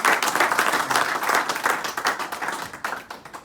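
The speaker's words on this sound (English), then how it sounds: "All right, can we give a round of applause for" An audience at a talk on collaboration, land and voting breaks into dense, steady applause. Many hands clap at once throughout, loud and close, tapering slightly at the end.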